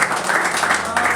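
An audience at a poetry recital breaks into brief, steady applause, a dense wash of clapping with no clear pauses.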